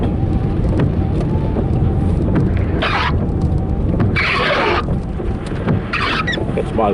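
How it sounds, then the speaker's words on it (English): Car windscreen wipers sweep across the glass during spring rain, giving a few brief swishing strokes spaced a second or so apart over steady road and engine rumble inside the car. "That's my windscreen wipers"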